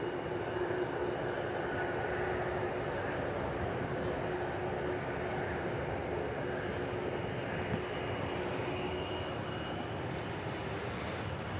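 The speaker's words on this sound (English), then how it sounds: "we got photobombed by that E-jet." An Embraer E-jet airliner passes at DFW airport, a steady, loud broadband jet engine roar that holds throughout with no break.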